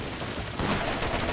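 Rapid gunfire from a high-rate, low-damage weapon in the video game Borderlands, a dense continuous burst of shots that grows louder partway through, with no talk.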